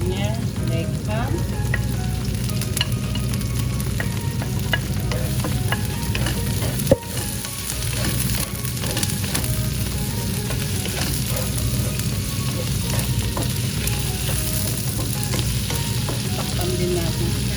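Vegetables with leg ham stir-fried in a pan, a steady close sizzle with constant scraping and tossing of a spatula throughout, no speech.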